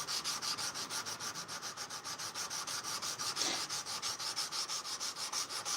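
Hand sanding a soft wrought iron blade to remove 120-grit grind lines, heard as steady, rhythmic back-and-forth abrasive strokes, close and continuous with no talking.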